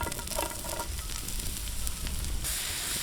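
Chopped onion sizzling in a little oil in a pan for masala, a steady close frying hiss throughout with a slight shift near the end.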